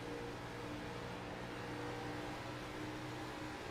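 Xfinity Series stock car engine on board during a race, a dense, steady roar and drone with a constant wash of noise as the driver works the throttle, loud, with no talk.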